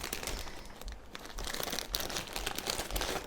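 A food packet is crinkled and cut open by hand while preparing chanko nabe, a Japanese winter hotpot, giving close plastic crackling and rustling with a few sharper crunches, no speech.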